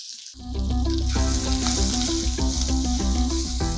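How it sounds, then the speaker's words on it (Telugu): Chopped onion and green chillies drop into hot tempering oil with asafoetida and curry leaves, setting off a loud, crackling sizzle that bursts in and holds steady to the end. "ఇప్పుడు ఒక ఉల్లిపాయ తరుగు, ఓ 2 పచ్చిమిర్చి వేద్దాం ఇందులో."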